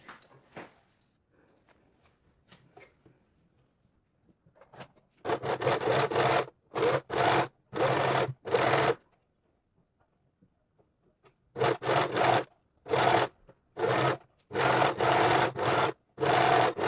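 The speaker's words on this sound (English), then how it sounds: "if you don't have an overlock machine, you're going to zigzag from here to this edge" Sewing machine running in repeated short bursts of zigzag stitching along a fabric edge of a racerback tank top, several stitching runs separated by pauses, close and fairly loud with no talk.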